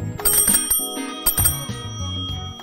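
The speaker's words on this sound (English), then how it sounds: "It has a great bell." Bell on a 1940 Munich-made bicycle with a solid steel frame, rung indoors in an apartment: a few bright, ringing strikes in quick succession that sound close and fairly loud, with metallic tones lingering between the rings.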